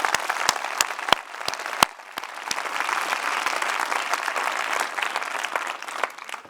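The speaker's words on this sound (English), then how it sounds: "Round of applause." An audience at a business conference claps in a steady round of applause, opened by a few sharp, loud nearby claps and continuing as a dense, even patter.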